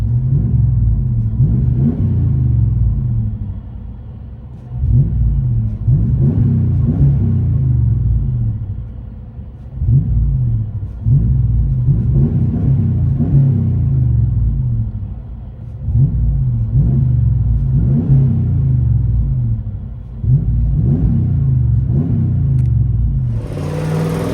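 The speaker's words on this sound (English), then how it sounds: "Ram 1500 Flow FX duals." A deep V8 exhaust rumble from a 2017 Ram 1500 5.7L Hemi with Flowmaster Flow FX dual exhaust, heard from inside the cab, rising and falling in repeated revs over a steady low growl, loud and close.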